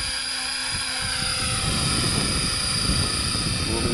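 Steady helicopter rotor and engine drone from a flight simulator in fast forward flight, continuous and close with no break.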